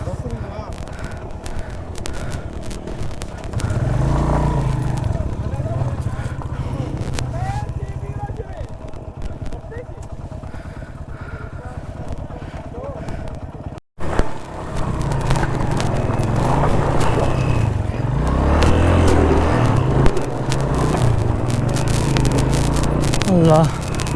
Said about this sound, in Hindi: गाड़ी है ना मेरी बहुत भारी है, फंस रही है बहुत ज़्यादा।